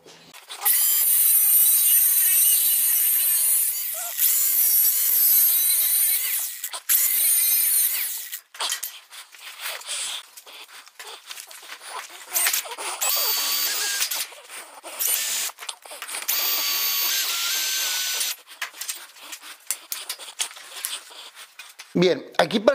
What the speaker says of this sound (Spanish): vamos a cortar un pedacito de ángulo